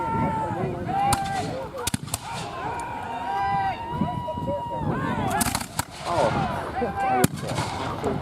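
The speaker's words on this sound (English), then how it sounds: "Now the soldiers will try to fire in volleys." Soldiers at the 2024 Siege of Old Fort Erie battle reenactment fire flintlock muskets in volleys, sending scattered sharp cracks across an open outdoor scene where voices carry in the background.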